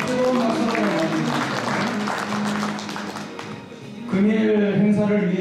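Warm audience applause rises at a year-end gathering and book-launch forum to welcome introduced guests, steady clapping filling the room for several seconds with a brief dip before swelling again.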